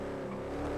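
Engine of a 2020 Lamborghini Huracan Evo in GTA 5, a steady, loud droning rumble that holds without a break for under a second, with no talk over it.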